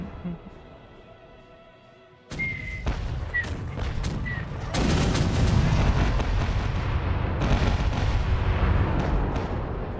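Cannons fire at a fort in Caribbean Legend, with a sudden heavy blast after a quiet opening, then further booms and a sustained roar of gunfire that swell in loudness, over faint background sound.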